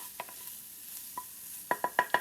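Noodles stirred in a pot of boiling water. A utensil scrapes and clinks against the pot in a few light strokes, then a quick run of four louder knocks near the end, with no talking.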